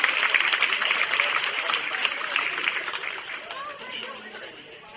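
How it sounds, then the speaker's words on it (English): A crowd at a county fair goat show applauds steadily, many hands clapping in a dense patter that slowly fades, with some cheering mixed in. "Let's give all these young people a nice round of applause to head back."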